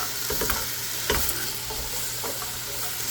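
A broad, steady sizzle of ingredients sautéing in a pot for Italian wedding soup, close and continuous, with a couple of soft stirring scrapes near the start.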